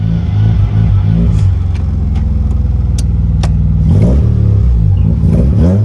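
Rotary-swapped BMW E36 engine revving hard close by, a buzzy, raspy note that climbs and falls through repeated throttle blips, with brief clattery pops between revs and no talking.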